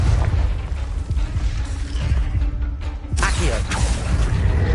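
Confringo spell in the game Hogwarts Legacy: a loud, deep booming blast with rumbling low end, followed by a sharp whooshing burst near the end, close and forceful.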